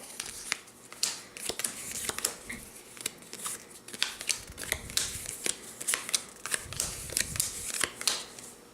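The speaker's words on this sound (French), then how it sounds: "Nous allons également avoir un paquet de cartes comme ceci que nous allons mélanger" A deck of playing cards for the board game KiWeTin is shuffled up close, with a steady run of crisp riffling bursts repeating about twice a second, no voices.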